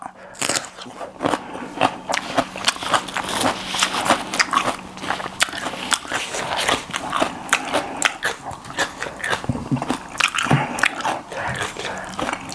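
Papaya salad being bitten and chewed close to the mic, a steady run of crunchy, wet bites and chews that continues without pause and with no talk over it.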